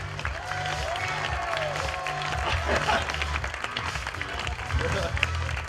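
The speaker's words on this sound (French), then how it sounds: "Donc une bonne main d'applaudissement pour Matt." Crowd at a bike stunt show during a St-Jean-Baptiste celebration applauding outdoors, a steady mass of clapping from a moderate distance with an announcer talking over it.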